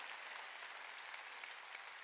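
Congregation applause in a church during a Wednesday worship service, a dense, steady patter of many hands clapping together, fairly faint and distant, with no voices above it.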